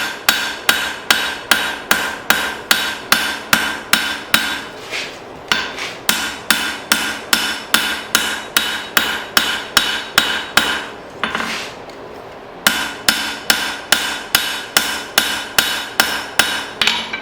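A hammer forges an old file, thinning its spine with fast, even, ringing blows in a steady rhythm, loud and close. The strikes come in bursts with two brief pauses.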